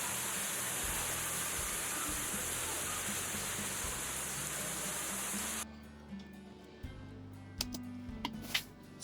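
Steady rain falls as a dense, even hiss for about six seconds, then drops away to quieter surroundings with a few scattered soft knocks.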